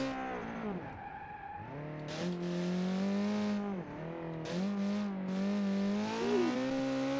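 A car engine in the BeamNG driving game revs steadily while driving, a loud continuous tonal drone that climbs and dips with shifts in throttle, alone without talking.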